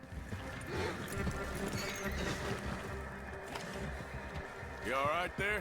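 Hooves clip-clop from a horse in a video game, with a whinny near the end, mixed under game sound and a talking voice.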